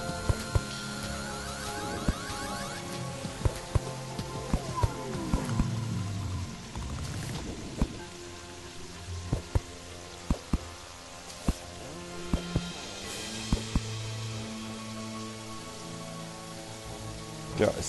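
Rain falls in Terraria as a steady patter and hiss across the scene, with scattered sharp drips and clicks over game tones and faint background music, lasting throughout without talk.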